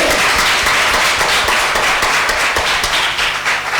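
Congregation applause during a church service, a dense, steady wash of many hands clapping together that stays loud and even throughout, with no talking.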